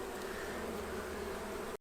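Honey bees buzzing in an opened hive during spring beekeeping, a small cluster making a steady, close, continuous hum that cuts off abruptly at the end.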